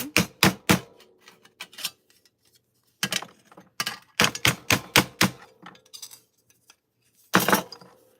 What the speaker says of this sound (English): now I'm just going to hammer this down.